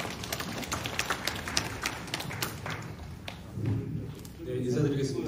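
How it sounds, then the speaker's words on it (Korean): Residents at an apartment reconstruction vision briefing in Changdong applaud as an architect is welcomed, a scattered burst of clapping that thins and gives way to a low murmur and shuffling in a hall. "큰 박수로 맞아주세요"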